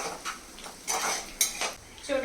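Fried onions with turmeric and chili powder being stirred in a pan, giving a few quick clinks and scrapes of a utensil against metal, close and moderately quiet.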